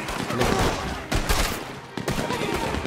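Dense gunfire crackles in the video game Red Dead Online, a loud continuous burst of shots with brief sharp cracks standing out, under a busy noisy mix.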